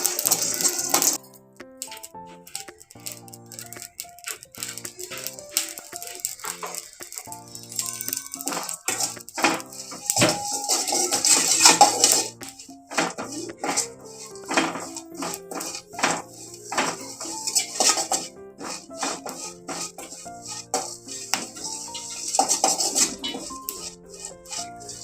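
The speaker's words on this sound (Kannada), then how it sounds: "ಜೀರಿಗೆ ಹಾಕ್ಬೇಕು, ಸೋಂಪು ಹಾಕಬೇಕು, ಚೆನ್ನಾಗಿ ಹುರ್ಕೊಬೇಕು ಕೆಂಪು ಅಂತ." Cumin and fennel seeds dry-roasting in a pan for curry leaf chicken, with busy metallic rattling, scraping and clinking as they are stirred, loud and close, continuing steadily without voices.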